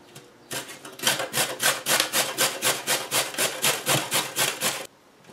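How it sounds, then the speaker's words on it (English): Carrot grated by hand on a coarse grater, a steady run of about fifteen rhythmic rasping strokes, close and fairly loud, with no talking. "I'm going to grate part of it on a fairly coarse grater"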